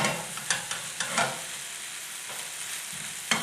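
Onions, mushrooms and bacon frying together in a pan give a steady close sizzle, with a few sharper clicks and scrapes near the start and one near the end.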